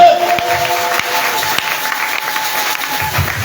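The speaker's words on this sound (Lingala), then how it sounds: "Acclamez le Seigneur Jésus-Christ." Church congregation clapping and cheering for Jesus Christ during a sermon, a dense, sustained wash of applause and crowd noise with scattered voices, steady and moderately loud throughout.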